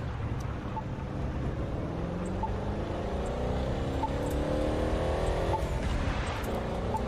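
A car drives over snow in the racing game The Crew 2, its engine a steady, continuous drone with a rising whine in a cockpit view, holding an even level throughout without talk.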